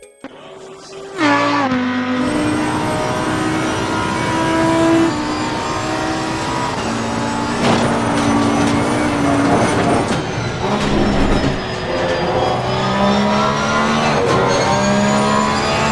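Race car engines in the sim racing game Assetto Corsa Competizione rev and shift through gears, loud and close, with pitch rising and dropping across several downshifts and accelerations.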